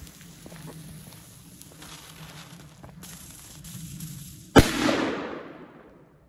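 A single sharp bang from a cracker-type firecracker cracks out after several seconds of quiet outdoor background, followed by a brief fading rumble.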